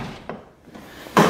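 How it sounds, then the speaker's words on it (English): A car's passenger door on a project car opening and shutting, with brief clunks and a short whir of the power window dropping and rising slightly as the door moves, close and alone. "when you shut it, window goes up a little bit, and when you open the door, window goes down a little bit"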